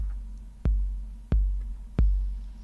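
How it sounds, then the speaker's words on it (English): Three deep, booming bass drum hits from a Roland TR-08 808 reissue land evenly about two-thirds of a second apart, each with a punchy attack and a long low decay, played alone in a studio. "the bass drum you're hearing, is actually from the TR-08 808 reissue"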